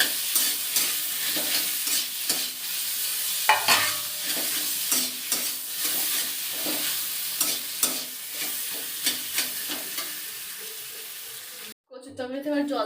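Boiled taro and potato fry in a pan for a curry with a steady loud sizzle, while a utensil stirs and scrapes in repeated close strokes; near the end the sizzle cuts briefly before resuming.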